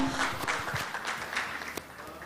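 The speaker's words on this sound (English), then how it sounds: "a round of applause for Mr." Audience applause at an Eastern Cape post-budget business breakfast, a dense, fairly soft patter of many hands spread evenly across the room, with a few sharper claps standing out.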